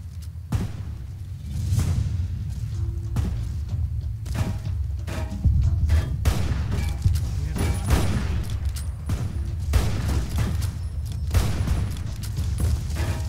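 Gunfire in Fallout: New Vegas: scattered shots and thuds over a steady rumbling bed, some close and punchy and others more distant, with brief swooshes in between.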